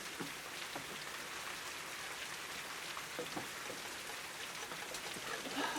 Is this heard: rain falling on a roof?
yes